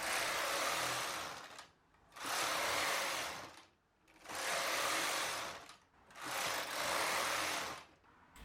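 A knitting machine works a sweater body in loose ribbing, its carriage swept across the bed in four long, steady passes with brief pauses between them, loud and close with no voices.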